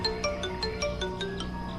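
A phone ringtone chimes in a steady repeating electronic melody of bright tones, playing alone at moderate volume in a scene from a Hindi TV drama.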